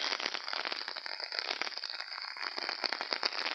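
Steady September rain falls outdoors where goats stand getting wet, making a dense, continuous crackling patter that stays close and even throughout, with no voices.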